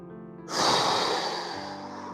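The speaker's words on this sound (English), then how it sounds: "Breathing out. Again, I'm gonna breathe in." One deep, forceful exhalation during a gentle morning mobility exercise, a breathy rush that swells suddenly and then tapers off slowly, heard close with no talking.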